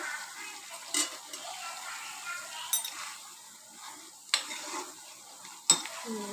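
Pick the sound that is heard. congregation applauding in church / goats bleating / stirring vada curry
stirring vada curry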